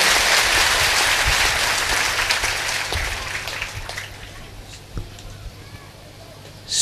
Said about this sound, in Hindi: इनके अभिनंदन में आप ताली बजा दीजिए।